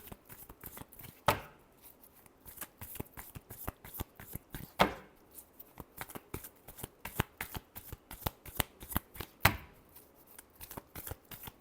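Tarot cards riffled and shuffled by hand, rapid crisp snapping bursts close up, with three sharper louder riffles standing out among the steady run of smaller card slaps.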